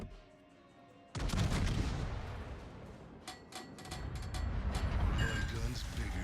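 Secondary guns on a warship in the World of Warships video game fire in a dense, loud barrage of overlapping booms and cracks that starts abruptly and keeps rolling, with a few sharper individual shots standing out.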